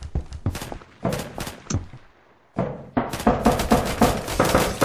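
Rapid gunshots in the Roblox shooter game Phantom Forces crack out close and loud in uneven volleys, broken by a short quiet gap before a denser string of shots, with no voice over them.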